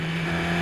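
A Formula Masters open-wheel race car at Sepang circuit in Malaysia, heard from onboard as a loud, steady high-pitched engine drone that holds a constant tone through a brief downshift into a corner.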